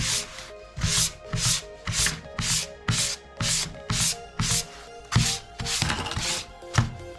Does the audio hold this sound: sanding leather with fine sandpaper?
yes